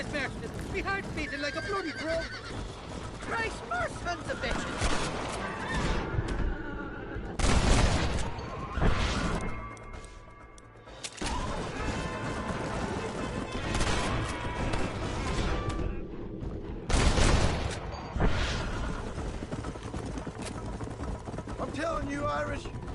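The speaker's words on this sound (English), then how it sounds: "Keep shooting as fast as possible." Sniper rifle gunfire in Red Dead Redemption cracks out in a few loud, sharp shots spaced well apart, over a busy game soundscape of music and ambience.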